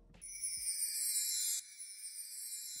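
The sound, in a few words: normal chime sound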